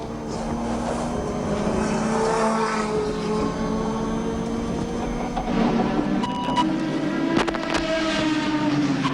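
Race cars circulating the track at the 1981 James Hardie Bathurst 1000, a steady blended engine drone at a distance, with occasional sharper bursts and clicks.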